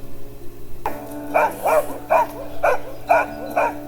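Rescue dogs barking in kennels, with a series of six evenly spaced, fairly loud barks starting abruptly after a quiet opening and repeating in a steady rhythm at close range.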